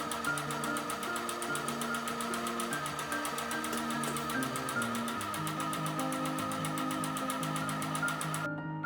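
Sewing machine stitching the side seam of a beach cover-up, a continuous fast needle rattle with a steady motor tone, close and uninterrupted until it stops just before the end.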